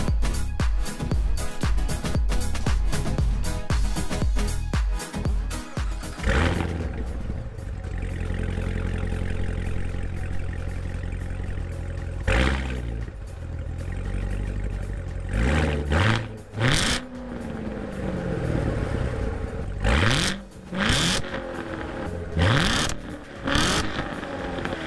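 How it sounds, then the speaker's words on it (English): A 2016 Chevrolet Corvette Z06 with the Z07 package and a 7-speed manual is revved hard several times, loud and close, with sharp bursts that fall back toward idle between blips. "hopefully I didn't blow up the mic with that, but just a couple quick revs."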